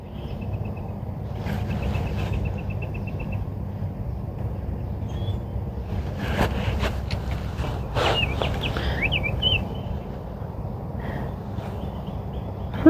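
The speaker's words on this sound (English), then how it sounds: "that bird might be right in the tree singing right now." A small bird chirps and trills intermittently at a distance over a low, steady outdoor rumble.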